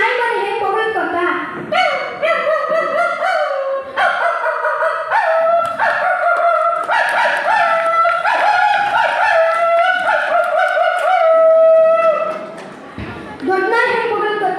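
At a school talent event, a child imitates a small puppy's cry with a string of high, wavering yelps and whines, loud and close, with brief pauses between bursts.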